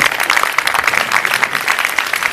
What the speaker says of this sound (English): Another round of applause if you're listening.